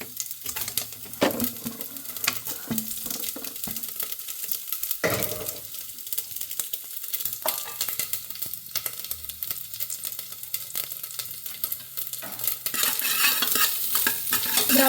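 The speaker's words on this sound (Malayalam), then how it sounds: "ഇനി അതിലേക്ക് കുറച്ച് തേങ്ങ ഇതുപോലെ കട്ട് ചെയ്ത് വെച്ചിട്ടുണ്ട് ചെറുതായി. ഇതിട്ട് കൊടുക്കുകയാണ്." Small coconut pieces frying in ghee for kalathappam while being stirred, a dense continuous sizzle with scraping, clinking stir strokes close by, with no speech.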